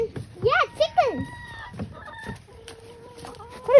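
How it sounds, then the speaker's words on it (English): A hen clucks close by in a quick series of squawking calls, then a few softer, drawn-out notes in an outdoor yard, with faint human voices in the background. "Hey, Mama, there's a chicken laying there."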